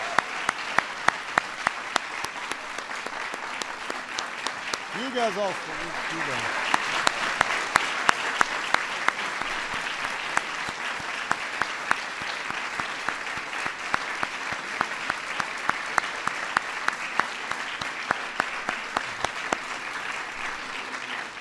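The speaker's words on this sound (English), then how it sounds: "Let's give our honorees one more big round of applause." Long, steady round of audience applause for arts medal honorees at a formal White House ceremony, a dense crowd clapping continuously at moderate level, with a brief voice and cheer early on.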